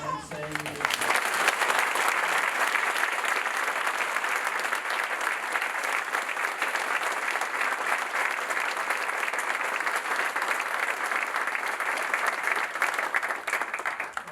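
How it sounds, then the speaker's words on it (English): Audience applause at a school memorial service, a sustained even wash of many hands clapping that begins after a brief pause and continues steadily for the whole stretch, fairly loud and close with no voices over it. "can we just give a round of applause to Ernest Price for coordinating and emceeing this"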